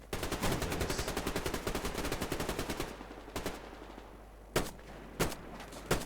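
Rapid automatic gunfire in the video game Survarium rattles continuously for about three seconds, then stops, followed by a few isolated single shots spaced apart.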